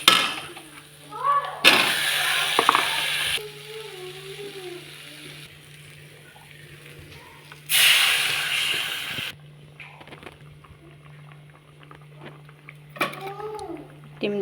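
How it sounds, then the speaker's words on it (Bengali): Potatoes go into a pan of spices fried with turmeric, salt and dried chili powder, setting off two loud bursts of hissing sizzle with quieter stretches between them and a voice speaking at times. "মশলা ভাজা হয়ে গেছে, এখন দিব আলু।"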